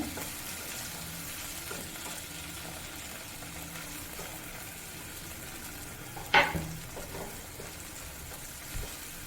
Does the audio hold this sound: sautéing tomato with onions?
yes